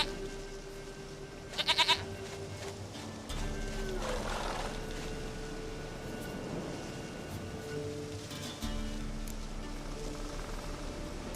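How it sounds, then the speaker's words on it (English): Goat bleating in The Witcher 3: Wild Hunt, a short burst of bleats rising over a steady ambient game background of low drones, with no talk. "Goat of mine, dearest, sweetest goat."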